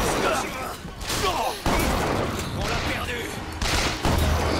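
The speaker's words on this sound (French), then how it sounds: "le fusil à pompe il fait très mal" A pump-action shotgun fires in Bioshock Infinite, several heavy close blasts spaced about a second apart amid dense combat noise, with someone talking over the gunfire.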